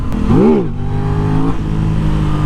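An Aprilia RS 660 sport bike revs hard for a wheelie, engine note rising sharply then dipping before a sustained loud drone, close and continuous with no talking.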